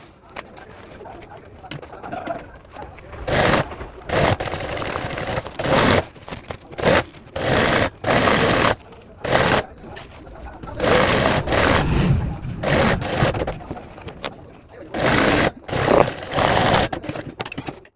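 A sewing machine stitches lining into a school bag in repeated loud bursts of rapid needle clatter, separated by short pauses, with pigeons cooing in the background.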